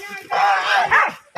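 Dogs on a wild boar hunt give a few loud, close barks and yips in quick bursts, with a voice speaking among them.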